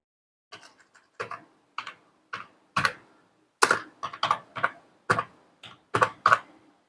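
Keys tapped on a computer keyboard entering a captcha, about a dozen separate clacks at an uneven, hesitant pace, close and clear with short pauses between.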